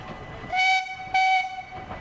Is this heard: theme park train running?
yes